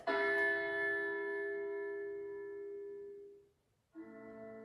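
A loud bell-like doorbell chime from a Halloween haunted mansion decoration's remote rings out and slowly fades over about three seconds, then a second chime strikes as the first dies away.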